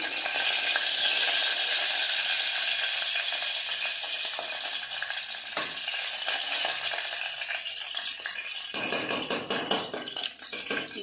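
Green chillies sizzle and fry in hot oil for palak pulao, a loud continuous crackling hiss close by, with utensil clinks and stirring scrapes toward the end and no talk.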